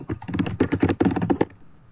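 Fingers type on a computer keyboard in a quick run of about a dozen crisp, close clicks, a brief pause in the middle, then the tapping stops into quiet.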